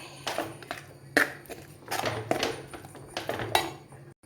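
Cooked yam, pumpkin and beans being mashed in a pan for erissery, a series of irregular scraping and clinking strokes of a utensil against the pan, close and moderately loud.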